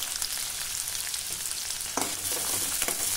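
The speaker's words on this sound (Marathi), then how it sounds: "कांदा हलक्या गुलाबीसर रंगावर आपल्याला परतून घ्यायचा आहे" Chopped onion with curry leaves fries in hot oil in a pan, a steady close sizzle with a few soft stirring scrapes and no voices.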